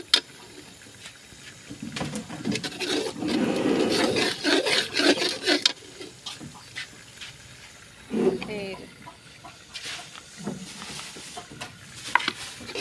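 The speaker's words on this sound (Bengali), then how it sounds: "মশলাটাকে কষিয়ে নিচ্ছি।" Spice paste being stir-fried in a pan for a fish and potato curry, a steady scraping and sizzling rasp with bursts of stirring, close and fairly loud, with a few brief clatters.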